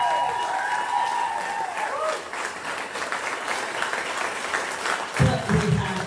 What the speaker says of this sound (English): Can we have a round of applause for all the women please?